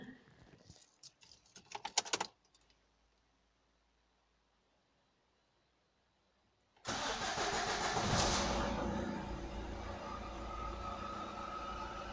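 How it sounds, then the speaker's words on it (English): An Opel Astra H 1.7 CDTI diesel, just refilled with oil after a turbo change, cranks and fires into a loud, rough idle close by, following a few quiet clicks and near silence. "Now I can start the engine."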